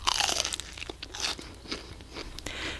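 Crisp crunching as a fried Menlo brand egg roll is bitten and chewed, a rapid series of close, dry crackles and snaps.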